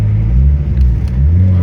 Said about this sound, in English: So far the car's running good though.